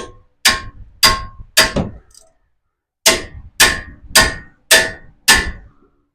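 A 3-pound sledgehammer strikes heavy-duty front brake hardware on a 2016 Toyota 4Runner: eight loud, ringing metallic blows, three in quick succession, a pause, then five more at an even rhythm, each decaying fast.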